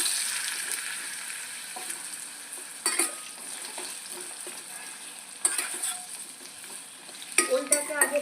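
Elephant foot yam pieces fry in Sundrop oil in a pan, a steady close sizzle with occasional sharper spatters and a few utensil scrapes, no talking.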